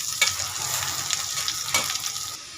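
Onion with a piece of cinnamon, two cardamom pods and three cloves fry in hot oil for an egg korma, giving a bright, close sizzle with a couple of sharper spatters and spoon scrapes.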